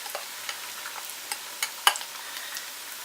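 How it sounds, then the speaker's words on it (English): Eggs seasoned with black pepper are scrambled in a frying pan over lowered heat, a soft sizzle under sparse, light scrapes and taps of a utensil against the pan, with one sharper click. "And then I just go ahead and scramble a little bit."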